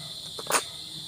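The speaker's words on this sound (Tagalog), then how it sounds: "Hindi nga nawawala yung kuliglig." A faint, steady cricket trill at night runs through the moment, broken by a brief soft knock or rustle midway.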